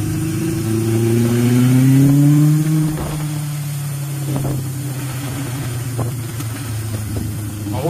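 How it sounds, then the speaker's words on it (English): A motorcycle rides through downtown St. Louis, its engine revving up with a rising pitch and then settling into a steady mid-toned drone. The ride is close and loud, with faint clatter from the street behind it. "Let's get back on the bike. Take you guys on a little ride downtown."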